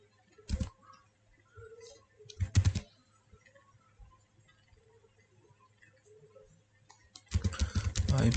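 Short bursts of computer keyboard typing come through close and crisp, two quick clusters of keystrokes early on, then a sustained run of rapid tapping at the end, with quiet gaps between.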